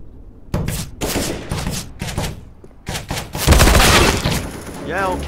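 Rapid bursts of rifle fire in CS:GO, sharp and loud, with several volleys separated by short gaps, a heavy barrage near the end, and voices chattering underneath.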